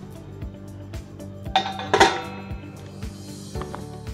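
A metal lid set onto a cooking pot of vegetable soup, giving a clanking clatter with a brief metallic ring. A few soft knocks come before and after it, close by and without voices.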